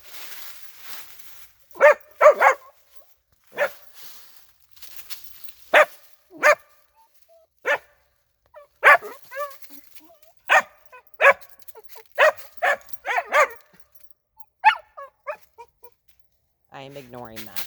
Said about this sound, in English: So she hears my dogs in my house,